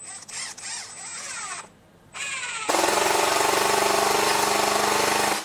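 A Milwaukee M12 stubby impact wrench (FIWF12) runs at its lowest speed setting while driving screws: a loud, close whirring with a brief dip and pause, then a steady, continuous mechanical rattle that runs to the end.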